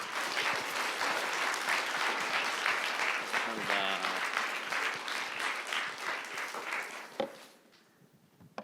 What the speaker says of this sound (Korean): 목사님 나오실 때 우리가 다 같이 큰 박수로 환영하겠습니다